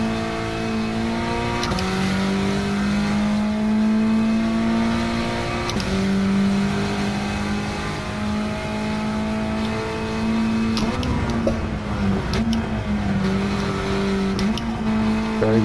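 A Honda Civic Type R FK8 with a blow-off valve accelerates hard on a racetrack, its engine note climbing repeatedly through gears with short breaks at each shift, loud, close and steady with no talking.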